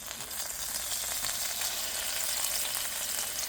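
Marinated salmon sizzles steadily in hot olive oil in a pan, a bright, even crackling hiss that holds at a moderate level throughout with no talking.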